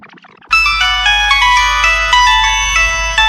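A telephone rings in an Egyptian radio drama, a loud electronic melodic ringtone of bright repeating tones that starts abruptly and plays on continuously.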